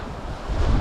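Wind and breaking waves around a sailing yacht under sail at sea on the Adriatic, a steady rushing gust with low surf rolling in louder toward the end, no voices.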